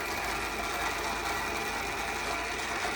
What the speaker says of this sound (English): you'll see the stepper take off and run the sprocket